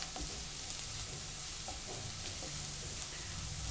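Cabbage egg burji with half the spring onions added is stirred in a frying pan, with a soft, steady sizzle and light scraping of the spatula, quiet and close, with no talking.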